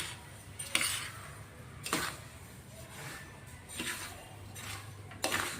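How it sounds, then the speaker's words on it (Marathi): Mukhwas mouth freshener, a seed mix, is stirred in a pan with a utensil, giving a few sharp metallic scrapes and clinks at irregular gaps over a faint background hiss, close by and with no talk. "मिक्स करून घेतोय आपण आता."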